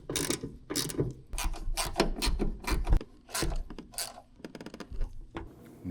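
A ratchet tightens the hood hinge bolts on a 2012-2016 Honda CR-V in quick bursts of close, sharp clicking with short pauses between strokes.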